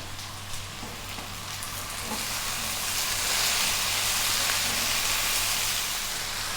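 Green beans and tomato simmering in a pot for a vegan vegetable hotpot, giving a steady, close sizzling hiss with soft bubbling that swells slightly partway through, with no talking.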